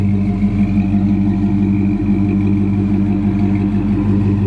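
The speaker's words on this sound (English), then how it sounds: "The LS motor's got a nice sound." A supercharged LS V8 in a 1958 Oldsmobile Fiesta wagon runs at a steady idle, a loud, close, continuous low rumble with no talk over it.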